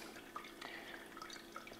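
A miniature Christmas village water feature trickles and drips softly, a faint steady flow punctuated by small scattered droplet plinks, heard alone without talking.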